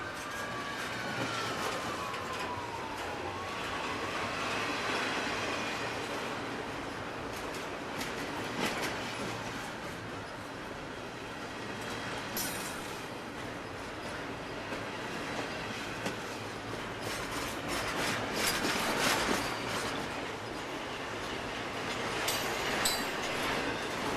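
CSX freight train Q130, led by SD50-2 locomotives 998 and 8541, rumbles past close by in a long, steady roar with rail clatter and a brief tonal wail early on, no talk.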